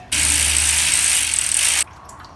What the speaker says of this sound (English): A nice shower of utterly filthy transmission fluid.